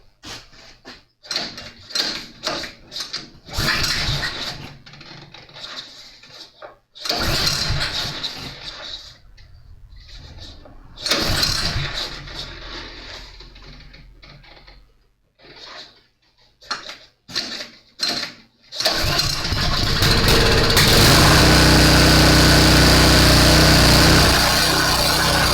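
A Cub Cadet tiller engine is pulled over repeatedly with the choke on, giving bursts of cranking and rattle separated by pauses, then catching and running loud and steady through the final seconds.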